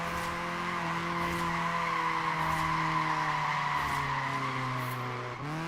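A car power slides in Forza Horizon 4 during an Easter buggy trial, tires squealing in a long sustained skid over a steady engine note, loud and close, tapering off near the end.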